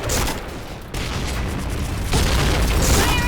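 Grenade blasts from the shooter game Point Blank come as loud, dense booms and crackles over continuous game noise, with distinct surges near the start, middle and end.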